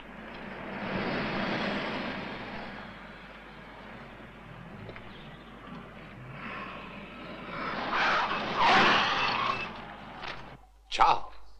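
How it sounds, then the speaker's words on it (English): A car brakes hard with tires skidding, a loud screeching burst building near the end over a steady engine rumble, cut off abruptly. "I had to brake suddenly to avoid hitting two women."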